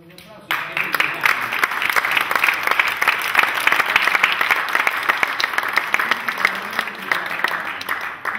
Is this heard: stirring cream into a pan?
no